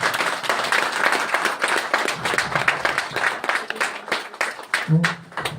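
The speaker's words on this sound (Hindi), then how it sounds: "जोरदार ताली एक बार।" Audience clapping at a live product demonstration of alkaline water, a dense burst of applause from a nearby crowd that runs steadily, then thins with a brief low hum near the end.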